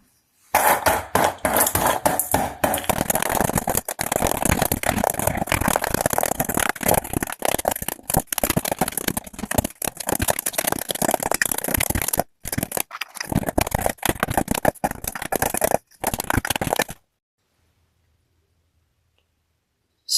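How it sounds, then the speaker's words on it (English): A kitchen hammer pounds mint chocolate cream cookies in a bowl, a dense run of sharp crunching knocks and clatters for most of the stretch, with a few brief pauses before stopping into silence. "My trusty kitchen hammer."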